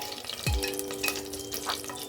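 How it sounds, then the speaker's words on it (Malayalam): Cinnamon, cloves, cardamom, fennel and bay leaf drop into hot ghee for chicken biryani and sizzle close by in a steady fry, with a short splash as they go in and light stirring clinks, no voices. "ഇനി ഇതിലേക്ക് പട്ട, ഗ്രാമ്പു, ഏലക്ക, പെരുംജീരകം, ബേ ലീഫും കൂടെ ചേർത്ത് കൊടുത്ത് നന്നായിട്ടൊന്ന് മൂപ്പിച്ചെടുക്കാം"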